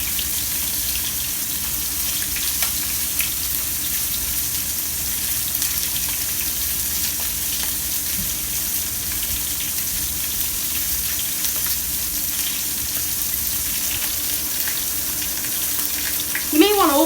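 Steak searing in a hot pan with a steady, dense sizzle that holds constant at close range, with a brief clatter near the end.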